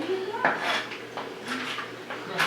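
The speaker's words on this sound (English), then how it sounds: "we're going to dump it on our cutting board and chop it up." Raw pecans tip onto a cutting board and are chopped with a knife, making a few sharp, close clacks and clatters that are fairly quiet and come in short bursts.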